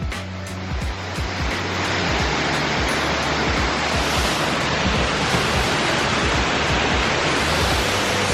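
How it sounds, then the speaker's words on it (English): Boyana Waterfall in the Bulgarian mountains, about 20 metres high, rushing as a dense, loud, continuous roar of falling water heard close by, with no talking. "So the waterfalls that are behind me are approximately 20 metres high."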